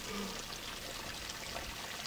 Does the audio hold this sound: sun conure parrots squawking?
no